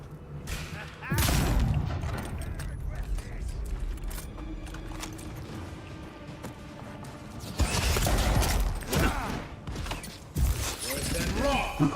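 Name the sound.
gunfire shooting in the Avowed video game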